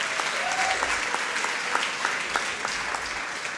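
An audience at an Italian fundraising awards ceremony gives a steady round of applause, moderately loud and even, with no voices over it.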